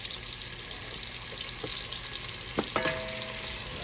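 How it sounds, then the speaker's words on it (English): Garlic sizzles in an oil-filled frying pan while spicy Cajun shrimp and sausage pasta is cooked, a steady broadband frying hiss with a couple of brief clatters of stirring near the end. "now we're gonna throw the garlic in here now"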